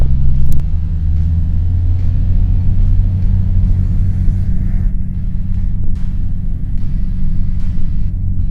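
A small plane's engine rumbles low and steady at close range on a runway, a dense continuous drone with a brief louder burst at the start and no voices over it.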